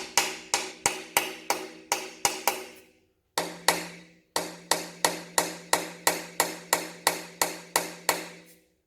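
Repeated dull, hollow knocks from a neoprene-tipped mallet tapping a Holden 355 engine block, in quick regular bursts, a short pause midway, then the steady tapping resumes, each strike close and crisp.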